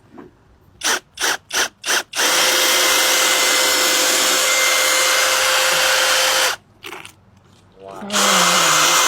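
A handheld drill with a mixer attachment whirs loudly and steadily for several seconds, churning and liquefying the flesh inside a watermelon, after a few short bursts at the start; people speak briefly near the end.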